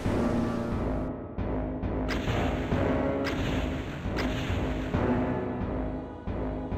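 Video game naval battle at Callao, 1879: deep booms of ironclad bow cannons and batteries go off one after another over a constant rumbling din, each shot followed by a brief crackling burst.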